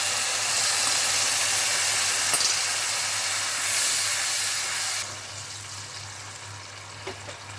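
A steady hiss of water simmering and bubbling in a pot while cooking basmati rice pongal, with a low hum underneath that drops quieter partway through.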